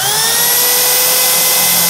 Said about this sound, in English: we're going to go all the way until the countersink goes into the wood.